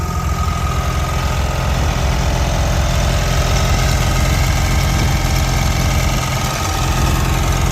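A Gravely tractor engine runs steadily up close, a loud, rough low-pitched chugging hum with constant vibration and no pauses.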